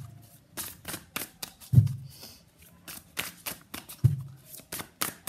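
Tarot cards being shuffled by hand, a run of crisp riffling flutters and soft slaps close up, with a couple of heavier thumps as the deck is squared, quiet and alone with no talk.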